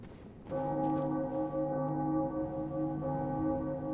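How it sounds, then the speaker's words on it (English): A bell tolls once in Bloodborne: The Old Hunters, a sharp strike followed by a long, steady, rich ringing sustain with a second lighter stroke near the end, loud and close with no talk. "That's a bell, not a lantern."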